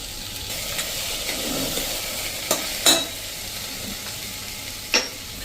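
Cauliflower and capsicum dropped into hot oil in a pot for khichdi, a steady close sizzle with a few sharp scraping clatters from stirring, no talk.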